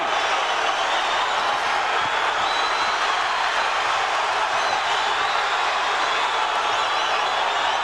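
A boxing arena crowd roars continuously during the Tapia vs Ayala fight, a dense, loud wash of cheering that holds steady without breaks.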